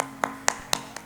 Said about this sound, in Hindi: तो सिस्टर के लिए तालियां हो जाए।